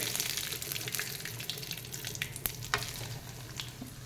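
Crushed peanut powder and curry leaves sauté over a low flame in a pan for a fasting-day recipe, giving a soft continuous sizzle with scattered stirring scrapes and clicks.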